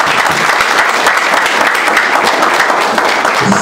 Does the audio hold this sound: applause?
yes